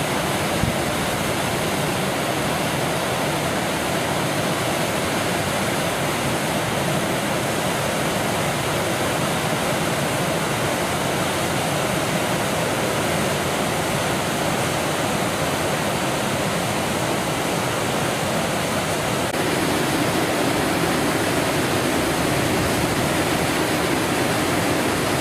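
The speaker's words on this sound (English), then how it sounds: "And there is the water in Glenorchy." Rushing water in Glenorchy in the Scottish Highlands pours in a steady, loud, broadband roar that barely changes throughout, with no voices over it.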